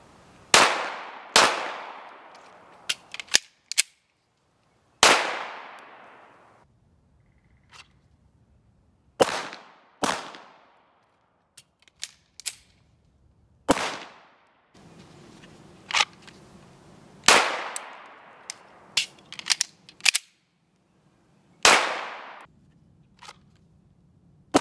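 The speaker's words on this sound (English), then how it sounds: "let's go ahead and take some more shots and really just shoot it" Gunshots from a Canik TP9SFX pistol at a shooting range, about a dozen sharp, loud reports fired singly at uneven intervals with decaying echoes, some closer together, mixed with small metallic clicks and handling noises.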